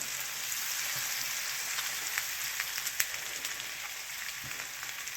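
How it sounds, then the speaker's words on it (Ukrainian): Steady crackling sizzle of potatoes frying in a pan, with occasional louder pops, close and continuous. "Тепер вигружаємо это все на сковородочку. Як шкварчить."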